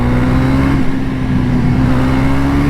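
A 2021 KTM 390 Duke single-cylinder motorcycle engine revs close by, with a loud, steady, throaty drone that holds across the whole stretch without talk.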